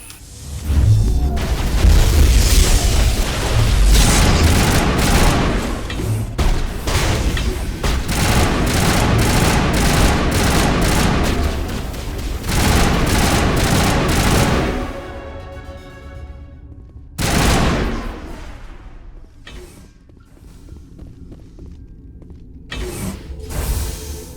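Sustained gunfire from a battle against Geth in Mass Effect on Noveria: dense, loud bursts of rapid shots and booms fill most of the span, then thin out into scattered shots and mechanical clatter, with no speech.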